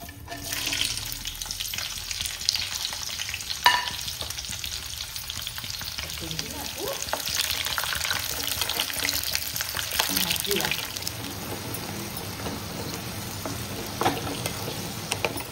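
Moringa drumsticks fry in hot oil for a pickle, giving a steady, moderately loud sizzle with occasional stirring clatter throughout, and no voices over it.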